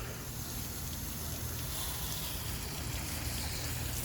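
Garden hose water trickles steadily onto newly planted okra, a continuous soft wash and rush with no breaks, faint and close.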